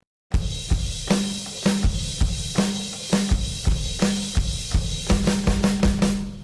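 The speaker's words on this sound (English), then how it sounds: "It's just like a fill-in, but add more bass drums. And there's a little additional snare there." A drummer plays a rhythmic pattern of bass drum hits and snare strokes, ending in a quicker run of beats, heard alone and up close; a tag-outro fill.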